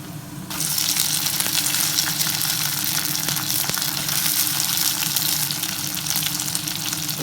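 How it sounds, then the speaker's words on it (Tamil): Onions frying in a pan during tempering for Thanjavur puli kuzhambu, a loud, continuous oily sizzle that swells in after a brief quieter moment and holds steady close up throughout. "இப்போ இங்கே தாளிச்சிட்டு இருக்கிறோம் வெங்காயம் கலர் மாறிடுச்சு"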